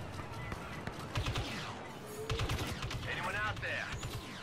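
Gunfire in the video game Star Wars Battlefront II, quiet bursts of rapid shots and blaster-like effects scattered across a busy game soundscape with faint talk underneath.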